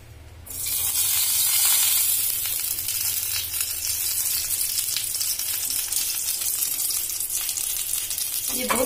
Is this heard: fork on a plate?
no